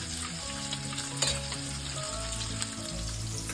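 Garlic frying in hot oil for a Koli-style fish curry cooked over a wood-fired stove, a steady close sizzle with stirring clinks throughout.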